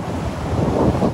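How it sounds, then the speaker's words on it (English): Ocean surf driven by Hurricane Teddy pounds Hutchinson Island beach, a loud continuous roar of breaking waves mixed with heavy wind buffeting the microphone. "Waves crash ashore on Hutchinson Island Monday."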